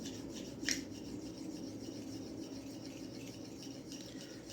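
A Le Grelot straight razor is stroked across a final finishing stone, giving a steady, close scraping rub that continues without pause, with one brief sharper scrape near the start.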